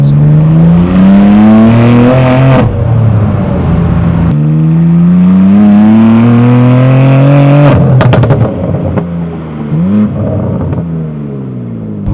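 BMW G87 M2 fitted with an AWE SwitchPath exhaust revs loudly and closely, its note climbing and falling through repeated throttle blips with a deep, rising drone and sharp crackles between revs.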